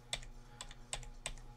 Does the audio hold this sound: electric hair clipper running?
no